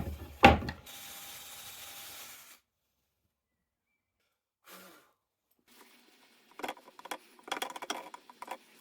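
A drill bores a couple of holes through the wooden base of a shop stool, starting with a sharp knock and then a steady whirring run of about two seconds. Brief scrapes and rattling handling noises follow later.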